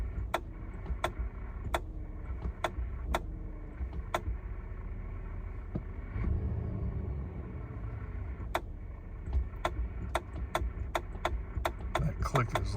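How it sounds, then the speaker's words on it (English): A 2024 Chevrolet Silverado 2500HD High Country gives a series of sharp, faint clicks when the brake pedal is touched, spaced irregularly over a low steady cabin hum, with a brief rise in engine noise midway. "That click is like when I touch the brake pedal."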